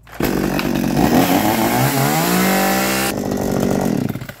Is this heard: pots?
no